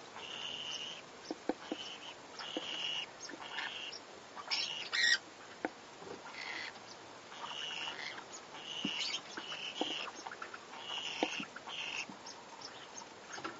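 Pineapple conure parrots in their nest give repeated squawks and chattering calls over a constant faint background hiss, with no speech.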